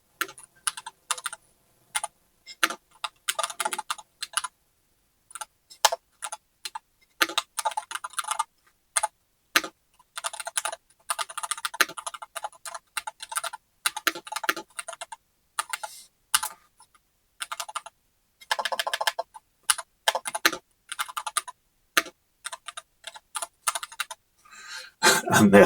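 Rapid keystrokes on a Monsgeek Fun60 Ultra 60% hall effect gaming keyboard during a short typing test, forming close, crisp bursts of clacks with brief pauses and no talking.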